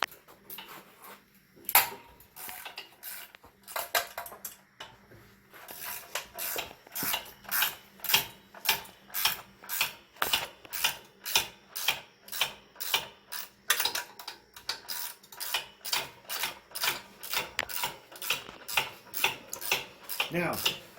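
Wrench ratcheting out 8mm bolts from the fan shroud of a Coleman mini bike, a quick, even run of sharp metallic clicks that grows steady and close after a few scattered clanks at the start.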